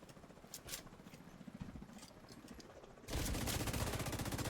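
Gunfire in The Division 2 video game, aimed at an enemy's body at medium range with a modifier active, heard as rapid repeated shots that start quiet and then jump to a loud, dense burst.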